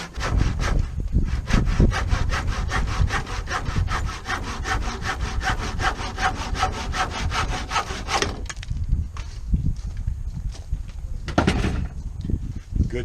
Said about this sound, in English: Another key to using a handsaw, a lot of people get into a hurry and try to cut real fast.